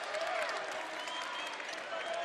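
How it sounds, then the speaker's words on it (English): Basketball crowd at the ICCU Arena in a Montana vs Idaho men's college game, cheering and applauding steadily in a dense, continuous wash of claps and voices with a faint voice over the top. "Late in the half, the crowd's coming alive too"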